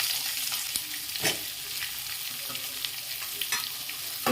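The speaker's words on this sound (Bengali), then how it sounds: "পেঁয়াজগুলো একটু ভেজে নিই" Chopped onions fry in hot oil with garlic and ginger over a high flame, giving a steady close sizzle with sharper crackles and stirring scrapes throughout, no voices.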